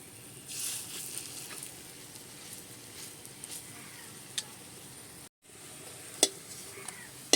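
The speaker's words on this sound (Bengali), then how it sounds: "সব কুমড়ো ফুলের বড়াগুলো ভাজা হয়ে গেছে।" Pumpkin flower fritters fry in a wok, giving a soft, steady sizzle with faint crackles and a few small clinks, heard alone at low level.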